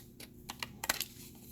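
Scissors snip along the stitching of a paper card in a quick run of crisp, close clicks, about half a dozen cuts in under two seconds.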